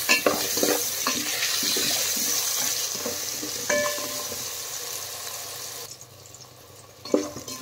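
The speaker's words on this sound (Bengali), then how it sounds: "নুন হলুদ দিয়ে আলু ভালো করে ভেজে নেব।" Potato pieces with salt and turmeric fry in hot oil, giving a continuous close sizzle with occasional stirring scrapes that drops away near the end before a brief clatter.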